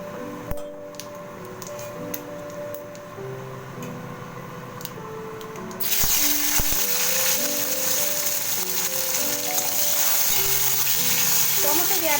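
Cumin, bay leaves and other whole spices in hot oil give way to a loud, steady sizzle about halfway through as tomato puree hits the pan for a vegetarian pointed-gourd curry, with background music throughout.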